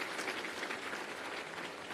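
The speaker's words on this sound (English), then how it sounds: "Please be clapping for them." Brief, dense clapping from an audience at a scholarship commissioning ceremony for Wings To Fly and Elimu recipients, a steady crowd patter at moderate volume with no speech.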